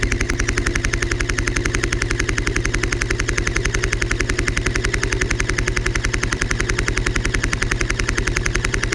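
Airsoft guns fire on full auto at a player in a firing-squad punishment, making an unbroken, evenly spaced rapid rattle that stays loud and close for the whole stretch, with no voices.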